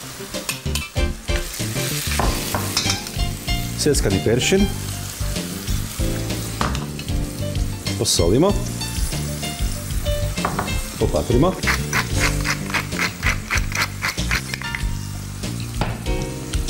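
Chopped peeled tomato and parsley simmer in a pan with white wine over low heat, a continuous bubbling sizzle overlaid with frequent stirring clatter and scraping, while a voice speaks briefly above it.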